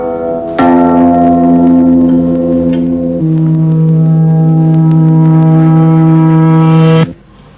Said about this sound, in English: But now we've turned the last note the wrong way round. We've got the decay first.